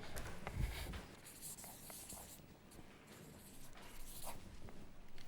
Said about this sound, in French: Est-ce que vous pouvez nous la dessiner, nous faire votre signature?